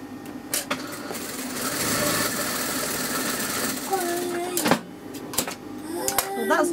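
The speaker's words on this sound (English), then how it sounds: "I've just seamed that just to keep those fabrics in place" A sewing machine runs a steady stitching seam to join two pieces of fabric, a continuous mechanical whir up close that stops, followed by a few clicks and handling sounds.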